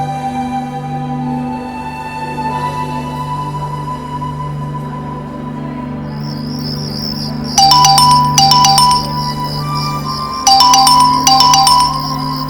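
A mobile phone ringtone chirps in two bursts of repeated electronic trills, each lasting about two seconds, over a steady background hum with no talking.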